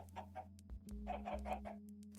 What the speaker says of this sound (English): Then we have some pigs, woolly pigs. And then we have, get this, Polish chickens.